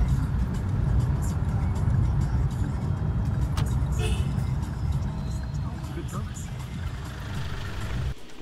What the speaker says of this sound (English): The car trip to the fuel station took about 35 minutes.